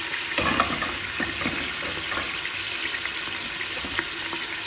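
A loud, steady sizzle hisses continuously as onions fry in hot cooking oil in a pressure cooker, with occasional pops and crackles close by.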